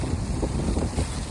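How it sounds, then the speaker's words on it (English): Steady wind rushing and buffeting against the microphone, a continuous low rumble with gusts, no voices. "It's very windy."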